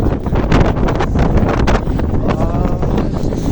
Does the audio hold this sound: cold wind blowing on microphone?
yes